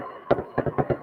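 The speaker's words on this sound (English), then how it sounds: "the fireworks are still going" Fireworks go off outside in Weedville, Pennsylvania, a quick run of muffled pops in pairs, heard from indoors at moderate distance.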